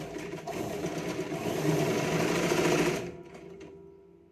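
A sewing machine runs a continuous stitching burst while hemming a katori blouse, loud and steady for about three seconds before stopping abruptly, leaving a quiet room tone.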